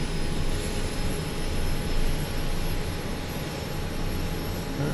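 Kodiak 100 turboprop engine winding up to low idle in Microsoft Flight Simulator, a steady, loud broadband roar with a faint high whine holding constant and no talking.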